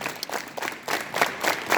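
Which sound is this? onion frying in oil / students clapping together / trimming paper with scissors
students clapping together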